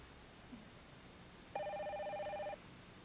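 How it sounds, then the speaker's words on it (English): A telephone rings once with a single warbling electronic burst lasting about a second, heard clearly over a quiet room background with no talking. "Excuse me, I'm expecting a phone call."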